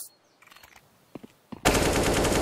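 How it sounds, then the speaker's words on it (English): M4 rifle gunfire in the video game CS:GO during a pro esports match, a few quiet clicks and taps followed by a sudden loud burst of shots that continues to the end. "Breeze all alone with the M4, huge headshot, and there's a second to add on top of it"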